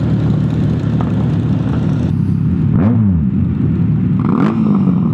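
A CFMOTO 650 motorcycle fitted with an SC Project aftermarket exhaust revs loudly close by, its engine rising and falling in a couple of sharp sweeps over a constant idle drone.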